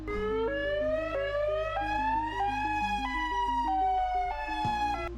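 Powerful warning siren from a countdown of the world's most frightening sirens, a loud steady rising-and-falling electronic wail with stepped pitch changes and a low drone beneath, continuous and close throughout.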